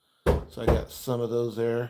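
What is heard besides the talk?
children banging on a door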